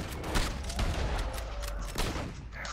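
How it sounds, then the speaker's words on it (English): Gunfire in Red Dead Redemption 2 Online, with rapid overlapping shots forming a dense, steady volley throughout, loud and close with no talk over it. "I'm shooting them in the head multiple times."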